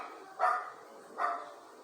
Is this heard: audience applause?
no